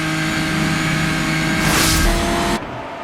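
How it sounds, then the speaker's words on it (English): A race car engine held flat out at the Dundrod road circuit, a loud sustained high-revving drone with a brief swell as it passes close, then dropping off abruptly near the end. "you can still hear that Doc Slappy here, Aidan, has not lifted"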